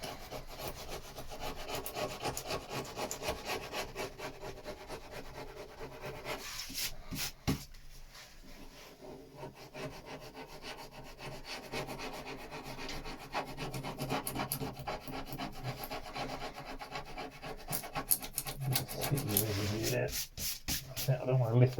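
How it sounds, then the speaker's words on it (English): Hand sanding of wood on a boat under restoration, a steady close scratchy rubbing that runs almost continuously, with brief pauses and changes in stroke, and a voice speaking intermittently over it. "A little bit to finish off that sanding and transition this in, smooth that off, lose that lip there"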